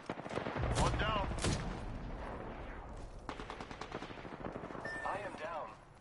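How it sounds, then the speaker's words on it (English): Gunfire from enemies in the battle royale shooter Apex Legends, heard as loud bursts of rapid automatic shots and heavy cracks with metallic ricochets and whooshes, close and dense in the first half and then thinning into scattered pops. "The enemies are shooting at me."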